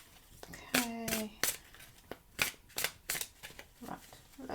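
Tarot cards are shuffled by hand in a series of quick riffles and soft slaps, close and quiet, with a voice speaking faintly between the bursts.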